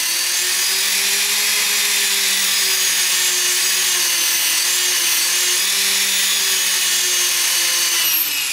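RC helicopter electric motor on a bench spooling up during an iKon autorotation bailout test, a loud steady high-pitched whine with a slowly wavering tone.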